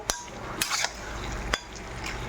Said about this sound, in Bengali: ভালো করে নেড়ে চেড়ে নিচ্ছি যাতে মশলা নুন সব কিছু ঢোকে